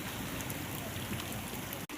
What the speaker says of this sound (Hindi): और अभी तक बारिश हो रही है।